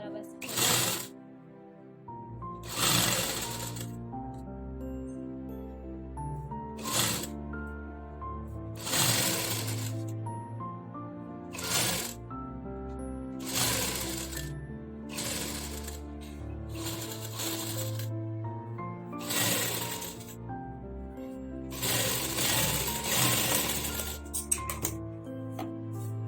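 A sewing machine stitches a sleeve into a 36-inch blouse, with the fabric turned as it sews. The rattling runs in repeated short and long bursts, close and fairly loud, broken by pauses, and background music plays throughout.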